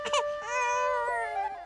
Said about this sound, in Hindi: अरे देखो बच्चा रो रहा है